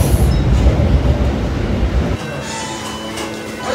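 A nearly empty commuter train in Shanghai rumbles loudly nearby with steady rolling clatter, then the noise drops to a quieter hum as it slows.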